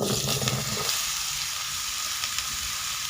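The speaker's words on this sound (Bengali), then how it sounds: "কড়াইতে তেল দিয়ে দিয়েছি এবারে তেলের মধ্যে দিয়ে দিচ্ছি আলু আর কুমড়ো" Loud continuous sizzling of potato and pumpkin frying in hot oil in a wok, steady throughout with no talking.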